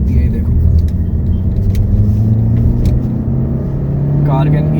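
A Hyundai Creta SX Premium (2025) accelerating through second, third and fourth gears, a steady engine drone with rising pitch and road rumble from inside the cabin, with a voice speaking over it.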